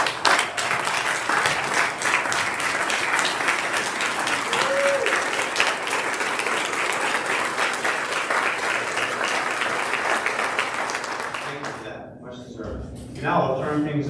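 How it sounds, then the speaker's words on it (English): A standing audience gives retirees a long round of applause: dense, sustained clapping that fills about twelve seconds, then fades as a voice briefly starts to speak. "we all stand up and give one more round of applause to all of our amazing retirees."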